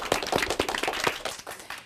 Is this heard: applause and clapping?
yes